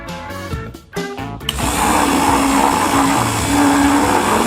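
After a few short clattering sounds, a blender motor starts and runs loudly and steadily, whirring without a break while mixing lemon, lime and water into a sour drink.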